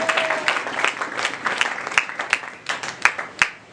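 Scattered hand claps ring out in a church, applause acclaiming Jesus Christ, with irregular sharp claps over a broader wash of clapping from the congregation.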